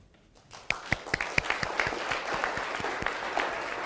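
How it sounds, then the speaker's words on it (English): Applause from a business seminar audience starts with a few sharp individual claps, then builds into a moderate, continuous patter of clapping from a modest-sized crowd. "Round of applause."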